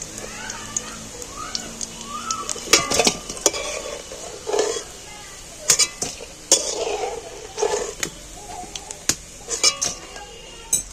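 Diced onions are stirred in hot oil in a wok, with a soft continuous sizzle broken by repeated sharp clanks and scrapes of a metal spatula against the pan, some clustered and some spaced apart.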